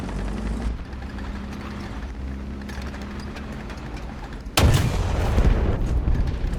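The cannon of an American T58 tank fires in a tank video game: a sudden, loud booming shot with a rumbling tail breaks in after a stretch of low engine drone.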